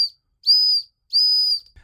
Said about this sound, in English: I really like the idea of having a whistle like this